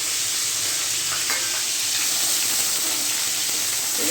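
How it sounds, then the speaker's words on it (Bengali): Bay leaf, chopped onion, tomato and green chilli frying in hot oil, giving a steady close sizzle with a few faint stirring scrapes throughout. "তেলটা গরম হয়ে গেছে, তেজপাতা দিয়ে দিলাম, পেঁয়াজ কুচি দিয়ে দিলাম, টমেটো, কাঁচা লঙ্কা দিয়ে দিলাম"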